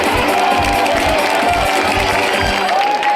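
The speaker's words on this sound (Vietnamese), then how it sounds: "các bạn hãy cho một tràng pháo tay thật lớn đi ạ" A crowd at a Christmas and New Year 2019 company party for Platinum Global applauds loudly and steadily after lucky draw winners are named, the dense clapping mixed with some cheering throughout.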